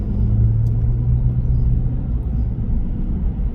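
A car rumbles past on a road at a hot rod event, a loud, low, continuous engine drone with no talk over it.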